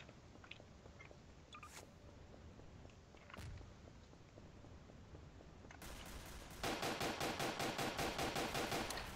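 Gunfire in Garry's Mod, with scattered shots early and a dense, loud burst of rapid repeated shots toward the end, mixed over a steady game background.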